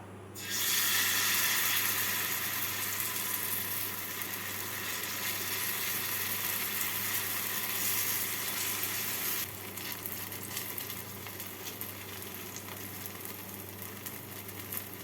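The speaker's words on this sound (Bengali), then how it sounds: "এবার মধ্যে চিলার ব্যাটারটা দিয়ে দিচ্ছি" Semolina chila batter poured onto a hot tawa with a little white oil over medium flame, bursting into a loud, close, continuous sizzle that eases slightly toward the end, with no voices.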